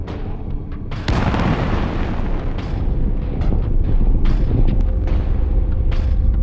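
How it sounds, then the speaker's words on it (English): A fuel tank aboard a ship blows up in the space game Space Engineers: a loud, deep explosive burst about a second in, followed by a sustained rumbling roar with scattered crackles and pops. "And another huge explosion on Dan. That has to be a fuel tank."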